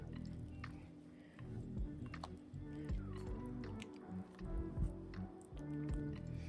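Sourdough banana bread muffin batter stirred in a bowl, close wet squishing and sticky slaps in an irregular rhythm, with soft background sounds.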